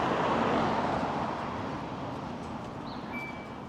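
Busy street traffic in St Annes, with buses about, gives a continuous roar of passing vehicles that is loud at first and eases off slightly, steady throughout.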